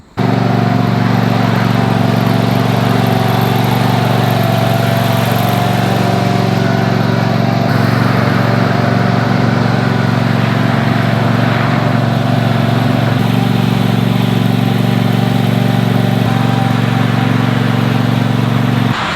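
A ride-on lawn sprayer's small engine runs loud and close at a steady, droning pitch for the whole stretch, with no breaks or talk.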